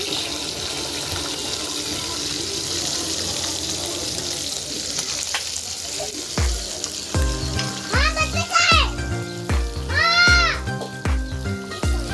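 Fish fry in oil with a continuous close, loud sizzle; in the second half, tonal vocal-like sounds break in over the frying.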